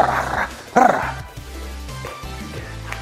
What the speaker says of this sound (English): when you have a hard dog like this